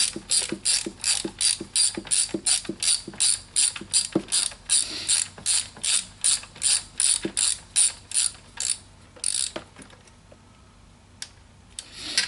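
Rapid ratchet clicks come in steady bursts as nuts are run onto the throttle body studs of a 2007 Mini Cooper S R56. The clicking is close and loud, then slows and thins out toward the end.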